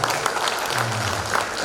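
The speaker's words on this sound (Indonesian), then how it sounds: "Tepuk tangan untuk kita semuanya." Audience applause at a motivational gathering for Bank Jatim staff and local officials: a dense, steady wash of clapping throughout, with a faint voice murmuring underneath.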